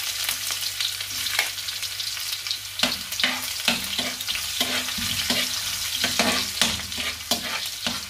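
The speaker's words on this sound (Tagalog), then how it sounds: "unahin muna natin igisa yung ating luya" Ginger sautés in hot cooking oil for ginataang manok with a steady close sizzle, while a utensil scrapes and taps against the pan in repeated stirring strokes.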